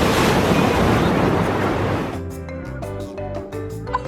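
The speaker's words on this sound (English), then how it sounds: "The waves are getting a little stronger here and we're getting some pretty cool action." Ocean waves surge through a rocky coastal blowhole, a loud, close roaring wash of surf and spray that fades into quieter trickling and dripping water with wind buffeting the microphone.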